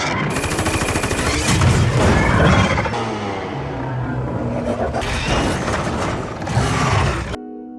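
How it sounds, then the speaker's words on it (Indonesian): Loud bursts of rapid gunfire and heavy explosions from an air strike crash together in a dense, chaotic barrage, with brief lulls before the blasts surge again. "Jenderal Strickland mengatur serangan udara yang berhasil membuat ledakan besar"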